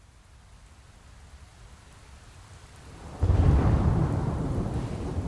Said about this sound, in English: Oh, there's a storm.